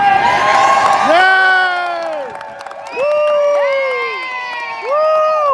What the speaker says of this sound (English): Mr. President, this crowd is fired up